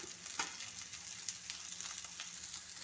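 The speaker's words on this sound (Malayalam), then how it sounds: "നമുക്ക് ക്യാബേജ് ചേർത്ത് വഴറ്റാം" Cabbage and onion sauté in a pan for a potato-cabbage curry, giving a faint, steady sizzle with a few soft stirring clicks and no talking.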